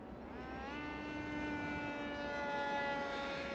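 A cheap RC plane climbing steeply under throttle, its small motor giving a steady, rising whine with clear tonal harmonics, moderately loud and unbroken.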